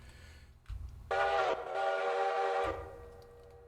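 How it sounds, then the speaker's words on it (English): Locomotive steam whistle in the Railroader game, one loud sustained blast of about a second and a half, harsh and distorted from clipping, over low rumbling engine noise. "A little bit of clipping on that whistle."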